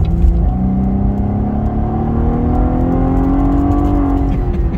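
A Dodge Challenger Hellcat accelerates hard from a red light, its engine note climbing steadily in a loud, sustained roar heard close up with no talk.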